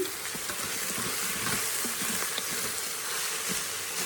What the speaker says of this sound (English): Now I'm only going to cook the garlic about a minute.